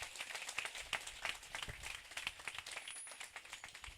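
Clapping from a church congregation during a French-language worship service, steady rhythmic hand claps at moderate distance, fairly faint and continuous, with no cheering clearly standing out.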